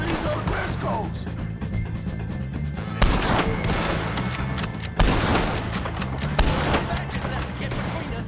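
Gunfire from a Red Dead Redemption 2 shootout against O'Driscoll gang members, with steady rapid shots under a dense game soundscape and sharper loud bursts near three and five seconds; voices shout over the fighting.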